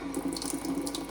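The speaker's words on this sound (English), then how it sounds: "it's still emptying a bit of water out of the hot tap" Water runs from a hot tap in a steady splashing stream, close by, with no voices.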